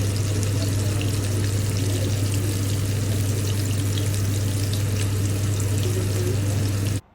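Hilsa fish frying in hot oil, a steady dense sizzle with a low constant hum underneath, continuous for about seven seconds before cutting off abruptly.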